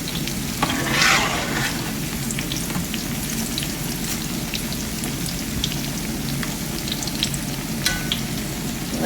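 Squash patties fry in a pan, giving a dense, continuous crackling sizzle with spattering pops throughout and a brief louder burst early on, heard up close with no talking.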